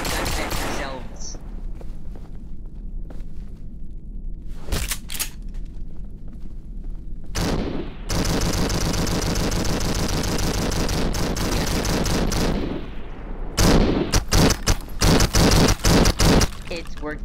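Gunfire from the zombie video game No More Room in Hell comes as repeated loud bursts and a sustained volley of rapid shots, mixed with voices talking over the game.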